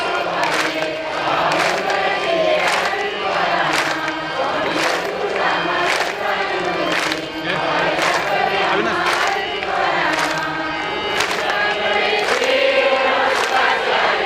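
A large kirtan crowd chants in unison, loud voices rising and falling in a steady repeated rhythm, punctuated by regular sharp claps or cymbal beats throughout.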